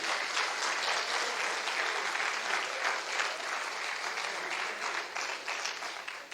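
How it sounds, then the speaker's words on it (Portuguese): Steady applause from a congregation at a church service, a dense wash of clapping that holds evenly from start to finish with no talk over it. "dá uma salva de palmas, Ele é digno"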